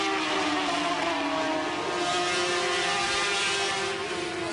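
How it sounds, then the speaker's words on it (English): Sidecar racing motorcycles at a 1991 FIM Sidecar World Championship round in the USA roar loudly through the corkscrew section of the track, a continuous high-pitched engine drone from racers passing close by. "Into the corkscrew goes number 1, Alain Michel."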